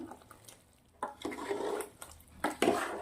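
A spoon stirs undhiyu, a Gujarati mixed-vegetable dish, in a pan after a spoonful of undhiyu spice mix goes in, giving quiet, uneven scraping and clinking strokes in short bursts.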